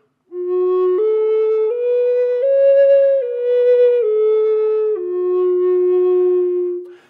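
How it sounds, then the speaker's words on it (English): Native American flute carrying a simple melody up and down in smoothly connected notes, breath unbroken between pitches; a pure, breathy, sustained tone played close and alone, rising in steps and then falling back. "My breath continues to fill the flute without any interruption, without any stoppage."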